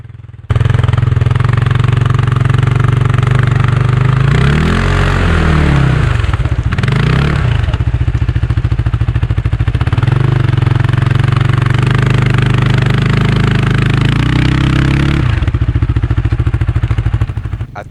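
A CFMOTO ATV engine, stuck in deep water during offroading, drones loudly and steadily up close, with repeated revs rising and falling in pitch and a clattering mechanical tone.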